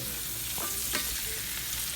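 Steady, close sizzling of chicken frying in a pan, a constant crackling hiss with a few faint clinks.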